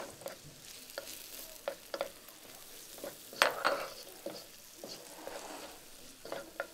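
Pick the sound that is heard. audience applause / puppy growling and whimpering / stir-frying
stir-frying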